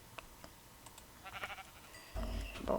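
Sheep in the video game Minecraft bleating a couple of times, faint and quiet at first, then louder near the end, with no talk.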